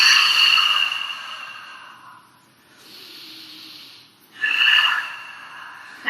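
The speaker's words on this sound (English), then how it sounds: "Big breath out." Two loud, close breaths through the nose during a yoga pose, a forceful hissing exhale then a quieter inhale and another strong exhale, with no talking.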